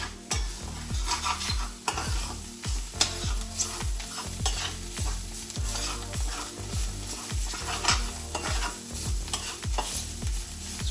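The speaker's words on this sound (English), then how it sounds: "We'll just quickly stir this" Hummus stirred briskly in a bowl, a close rhythmic series of wet thick scrapes and slaps repeating steadily, roughly twice a second, with no voices.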